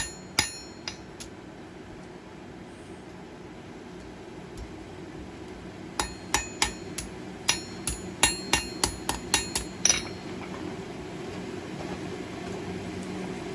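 Blacksmith hammering hot steel on an anvil while forging a leaf key ring: scattered sharp ringing blows early, then a steady run of about ten evenly spaced hammer strikes, close and clear over low shop noise.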